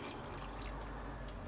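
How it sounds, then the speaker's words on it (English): Water pours steadily over canned pears in a kitchen, giving a faint, continuous trickling and filling sound with no talk. "I want to cover them with some water"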